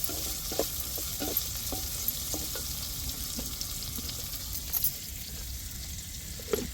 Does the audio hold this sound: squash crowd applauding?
no